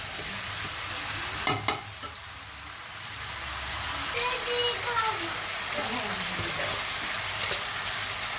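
Chicken pieces and new potatoes sautéed in a pan with cinnamon, bay leaf and garam masala, giving a steady sizzle with scraping stir strokes and a few sharp clinks, along with faint background voices.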